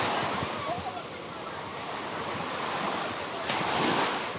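Continuous ocean surf rushes and hisses on a beach, with wind buffeting the microphone and faint voices in the background.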